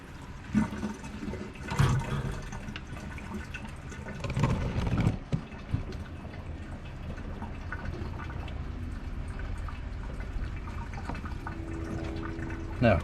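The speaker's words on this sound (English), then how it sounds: "Rinse off our cutting board. Rinse off our knife." Tap water runs steadily into a sink as a cutting board and knife used for cleaning catfish are rinsed, with clattering handling noises and splashes over the continuous flow.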